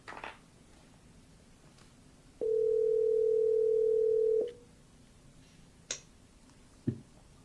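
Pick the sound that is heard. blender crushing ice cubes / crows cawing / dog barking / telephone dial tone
telephone dial tone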